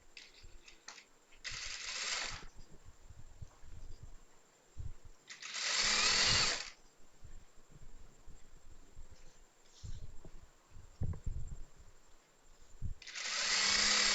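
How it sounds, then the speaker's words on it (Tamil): A sewing machine runs small stitches along a chudithar lining in three short bursts, close by, with quieter handling clicks and rustles between them. "இங்கே வந்து சின்ன தையல் போட்டு வரோம்."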